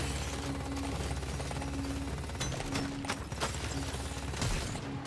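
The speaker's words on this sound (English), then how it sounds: "Reloading the gun." Gun reloading in the video game Deep Rock Galactic Survivors: a few sharp mechanical clicks and clacks, close and distinct, over a steady bed of game music and ambience.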